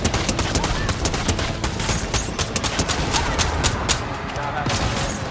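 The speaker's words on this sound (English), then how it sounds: "There's more shooting." Gunfire in a video game: rapid, sharp shots crack in dense bursts and fusillades, loud and close, with a few spoken words mixed in.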